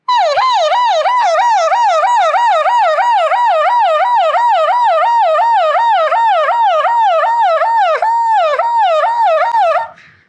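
A mimicry artist imitates an ambulance siren with his voice, a loud continuous wailing whoop that rises and falls rapidly and steadily for about ten seconds before cutting off.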